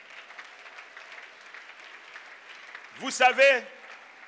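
Easter Sunday congregation applauding in church, a dense burst of clapping mixed with shouts that rises suddenly and peaks briefly after a stretch of someone speaking.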